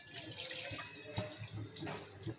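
Roughly 500 ml of water poured into a container, a soft, steady splashing and trickling with small droplet plinks, fairly faint and close, and no voices.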